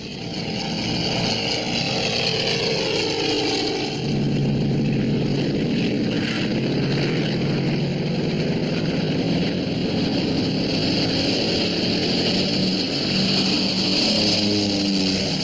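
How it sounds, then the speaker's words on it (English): A seaplane takes off in a hurry from open water near a Coast Guard cutter, its engine roaring steadily and loud for the whole stretch, with a whooshing wash of water and wind rising beneath it and no talk. "The seaplane took off in a great hurry, leaving the two divers behind"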